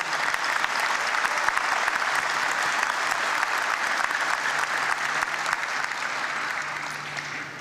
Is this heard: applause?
yes